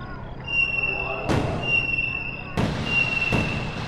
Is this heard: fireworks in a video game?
yes